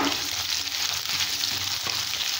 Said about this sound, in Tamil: வெங்காயம் நல்லா வதங்கிடும்.